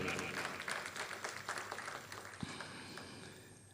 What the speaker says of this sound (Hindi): जोरदार तालियों से स्वागत कीजिए सतीश कौशिक जी का